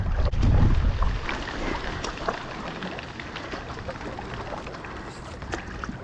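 Breezy wind on a lake in Pennsylvania buffets the microphone in a continuous broadband rush, strongest in the first second, heard from a SIC Maui stand-up paddleboard out on the water.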